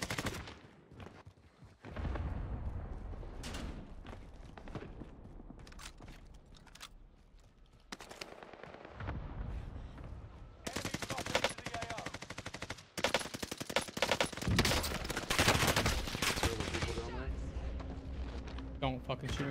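Rapid pistol and automatic gunfire bursts crackle through a Call of Duty Warzone match on Rebirth Island, loud shots repeating across the whole stretch alongside game sounds.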